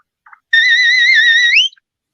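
A shepherd's whistle call to a sheepdog on a sheep farm: one clear, loud, sustained whistled note about a second long, wavering slightly and bending upward at the end, preceded by a faint short chirp and otherwise alone.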